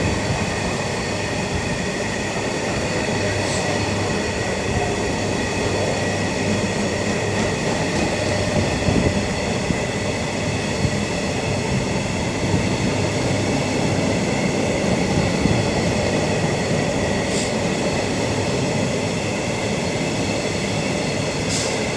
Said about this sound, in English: Bit of a flat wheel there.